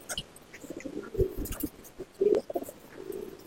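Racing homer pigeons in a Kolkata loft give low, throaty coos in a few short bursts, close by, with faint rustling and shuffling between calls.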